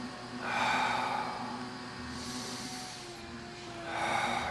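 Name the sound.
deep breathing during yoga stretch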